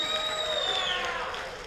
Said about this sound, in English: Reward them with your applause.